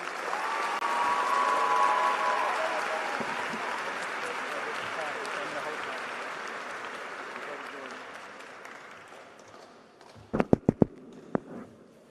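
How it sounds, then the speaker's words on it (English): An audience claps at a 2021 high school graduation ceremony, dense applause that swells early and then fades over about ten seconds, followed by a few loud, isolated claps close by. "Please give Patrick and his family a round of applause"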